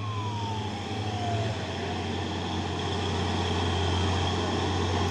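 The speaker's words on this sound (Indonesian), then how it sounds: "Dari belakang juga ada satu unit ambulan." An ambulance siren sounds from behind a Hino 500 trailer truck on a hill road, with one falling wail laid over the loud, steady drone of the truck engine and wind.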